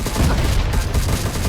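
Rapid bursts of gunfire from a shooter video game, with dense overlapping shots and a steady loud rumble running through the whole short clip.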